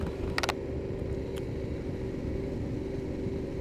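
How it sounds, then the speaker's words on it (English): Steady, loud engine and wind roar from a motorcycle cruising on the motorway at 130 kph, a continuous drone with a brief higher rattle near the start. "I've been driving the motorway for 130 kph for the last 2 hours."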